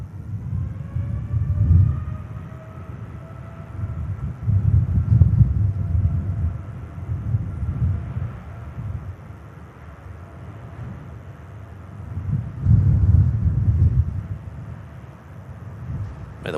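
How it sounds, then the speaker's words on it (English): Steady outdoor wind at Manchester Airport blowing across the microphone with a constant low rumble, swelling in gusts around a few moments and easing between, with no talking. "the wind is picking up here"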